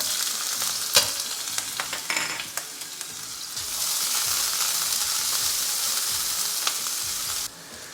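Finely chopped ginger and garlic hit hot oil over a high flame, setting off a loud, close, steady sizzle with scattered clinks of a spoon stirring, before the frying cuts back sharply near the end.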